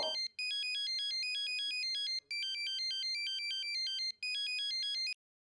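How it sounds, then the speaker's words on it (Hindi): A mobile phone ringtone plays a bright, repeating electronic melody in three bursts with short gaps, loud and clear, then stops. "ये किसका मोबाइल बजा?"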